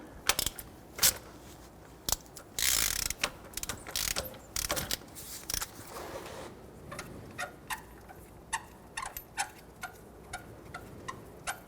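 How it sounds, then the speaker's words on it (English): A ratchet wrench loosening the crank bolt on a 1992-1996 Toyota Camry 2.2L four-cylinder, with bursts of rapid clicking followed by a steady series of single, evenly spaced ratchet ticks, close and clear. "Remove the crank bolt."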